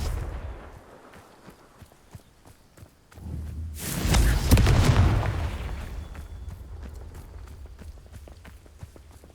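Confringo fire spell blasts in the game Hogwarts Legacy: a loud booming explosion rumbles midway and fades slowly, framed by quick running footsteps and small taps before and after.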